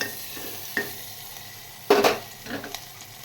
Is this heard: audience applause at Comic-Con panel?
no